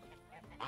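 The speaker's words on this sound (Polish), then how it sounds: "O, gęsi." Geese honking in the video game Medieval Dynasty, a short nasal call heard fairly close, with a louder squawk at the end.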